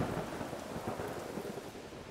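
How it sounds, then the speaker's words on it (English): Heavy rain pours and thunder rumbles in a dense, continuous wash in the neolithic survival crafting game Polylithic, with no voices over it. "this rain is just a murder right now"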